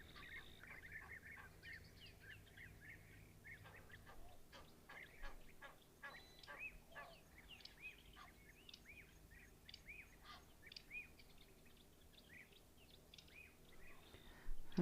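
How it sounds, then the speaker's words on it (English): Sharp, repeated calls of a black-backed puffback ring out from a distance over a quiet outdoor background, a series of clicking whistles with no one talking. "you can hear a blackback puffback there in the background"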